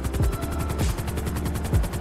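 A helicopter in a video game climbs toward the top of a tall city-centre tower, its rotor chopping in a fast, steady, loud rhythm with periodic heavier thumps and no voices.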